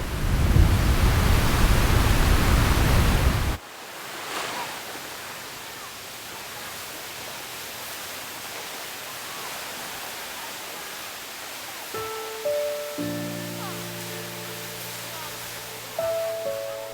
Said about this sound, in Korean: 정방폭포.